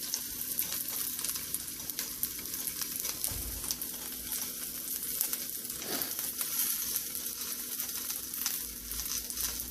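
A little oil sizzles steadily in a pan while ingredients sauté for a Filipino oxtail and peanut butter sauce, with a couple of brief stirring scrapes over the constant close hiss.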